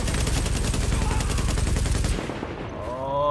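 Rifle fire in the video game The Division on PS4: a rapid automatic burst of loud, evenly spaced shots for about two seconds, then it stops.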